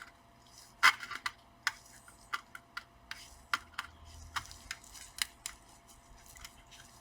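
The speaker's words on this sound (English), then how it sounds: "Just use the pliers like this." Pliers clicking and scraping against a stripped screw on a dead laptop board, a series of sharp close taps and snaps spread irregularly over several seconds, with no talk.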